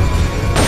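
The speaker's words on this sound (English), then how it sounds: "I see an airstrike barely misses" A single loud, close airstrike explosion in Metal Gear Solid: Peace Walker, a heavy, sustained boom that fills the whole short moment with no talk over it.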